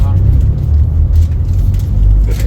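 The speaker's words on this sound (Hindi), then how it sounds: "ये ट्रेन चलनी शुरू हुई है।" Low, steady rumble of the Shanghai Maglev train pulling away from the station, heard from inside a carriage, loud and continuous with faint murmuring voices underneath.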